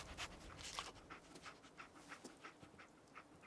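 A dog companion panting in Fallout 4, a steady rhythm of quick breathy huffs, close and fairly quiet, with no talk over it.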